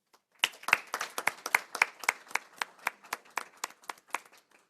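A small group at a governing board meeting claps for the committee, producing about a dozen sparse, sharp claps in a loose, uneven rhythm that thins out toward the end.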